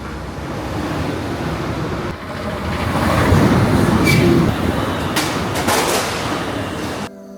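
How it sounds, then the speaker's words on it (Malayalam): A high-speed train rushes through a station with a steady, loud roar that swells at its midpoint and then cuts off abruptly at the end, with wind-like rushing throughout. "A high-speed train will be passing through this station."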